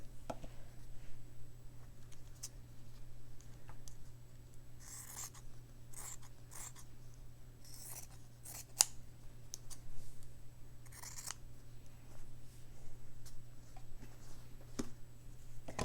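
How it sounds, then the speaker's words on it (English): Scissors snip fabric into small pieces with short, crisp cuts in irregular bursts, close and fairly quiet over a low background hum. "So I'll cut this fabric into little pieces so I have a bunch of snippets to work with"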